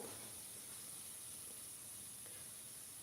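A pressure cooker on a kitchen stove vents steam as a steady, faint hiss that holds unchanged for the whole stretch, with no voices over it.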